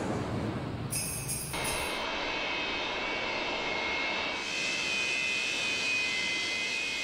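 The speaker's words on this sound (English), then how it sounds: "the big plane heads off to New York City" A loud, steady airplane engine drone fills the air, a broad roar with a high whine, continuous and close.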